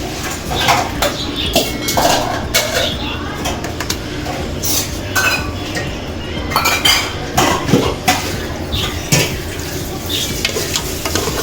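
Metal spoon scrapes and clanks against a pot as chicken is stirred into a biryani base, with faint sizzling underneath and a voice speaking over the busy clatter.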